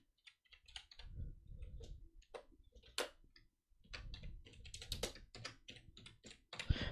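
Someone types Python code on a computer keyboard, producing quick, close, irregular key clicks and taps in short bursts separated by brief pauses, fairly quiet overall.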